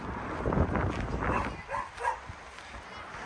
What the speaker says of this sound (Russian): Вот такие вот тут собачки.